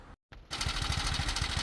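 A cheap monkey bike's small engine idles steadily outdoors, a close, even putter with a rapid regular pulse after a brief dropout at the start.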